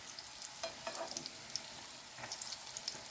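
Potato and cabbage patties fry in a pan with a steady, soft sizzle and crackle, with occasional small pops and stirring noises throughout and no talking.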